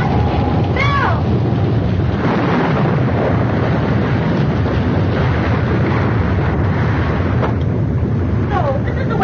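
Stormy sea in an old 1937 film, a dense continuous roar of wind and crashing waves filling the scene, with brief voices and shouts heard over the din.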